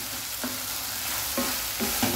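Tomato frying in a pan for a malai methi matar gravy, a steady close sizzle with a few soft scrapes of a spatula stirring at regular intervals.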